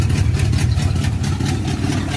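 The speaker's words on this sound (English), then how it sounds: "Yeah, y'all hear that exhaust." A truck engine with a performance cam idles loudly and close by, its exhaust giving a deep, steady, slightly lumpy rumble with no other sounds.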